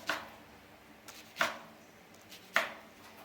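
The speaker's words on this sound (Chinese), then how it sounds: "卷好以后，用刀切成小段。" A knife cuts a roll of blanched cabbage leaves wrapped around shredded vegetables into short pieces, making three distinct, sharp chops on a board, spaced about a second apart and fairly quiet and close.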